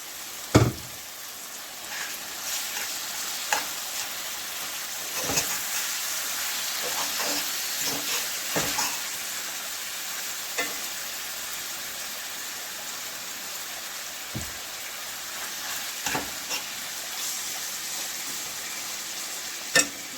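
Mackerel frying in a pan, a steady sizzle running throughout, with scattered sharp clicks and scrapes as the fish is stirred, moderately close and with no talk.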